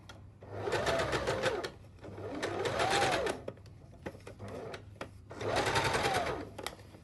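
A sewing machine stitches pure silk in three separate runs of a couple of seconds each, its motor whirring up and down in pitch with rapid needle clatter, close and loud with brief pauses between.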